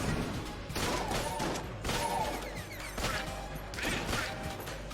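A makeshift cannon fires in the video game Enter the Gungeon: four heavy, booming blasts spaced about a second apart, each with a crashing burst and ringing tail over game sounds.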